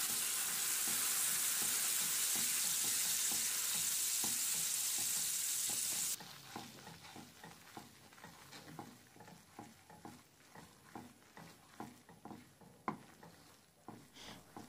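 Whipping cream hits hot melted butter toffee in a pan, a loud steady sizzle at first that drops into softer bubbling with a rhythmic scraping stir.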